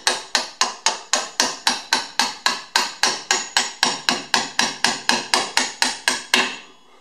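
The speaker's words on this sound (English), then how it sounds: "I'm just going to tap this guy in like so" A hammer taps a new axle into the rear axle housing of a 2002 Ford Ranger: about twenty sharp metallic strikes in a fast, even rhythm, loud and close, with no talking.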